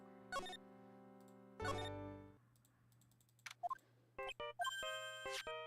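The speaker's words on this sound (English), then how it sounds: "I don't like the sound of this ringtone right now." A phone ringtone in the Phoenix Wright: Ace Attorney video game plays bright, synthetic tonal beeps, first in a few sustained bursts and then a quicker run of short melodic notes, alone and fairly clear.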